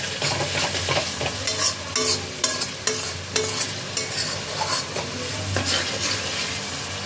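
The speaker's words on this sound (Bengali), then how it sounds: "আবারও একবার ভালো করে মিশিয়ে নেব।" Chicken masala with salt and sugar added being stirred in a pan for chicken do pyaza, with repeated spoon scrapes and clatters over a continuous close sizzle, with no voices.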